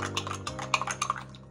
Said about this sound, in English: Get all that chocolate stirred up.